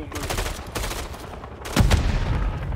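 Pistol gunfire in the video game Call of Duty Modern Warfare III cracks out in a few sharp shots, with a louder, heavier blast near the end and a busy battle background.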